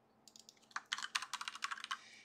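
Quiet, close keyboard typing with a rapid run of distinct clicks that starts softly and grows steadier and slightly louder.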